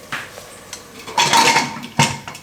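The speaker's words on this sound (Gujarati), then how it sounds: "હવે કુકરનું ઢાંકણું બંધ કરી દેવું આપણે" A metal pressure cooker lid is set in place and closed: a few distinct, close metallic clanks and rattles with a short scraping clatter, heard alone without talk.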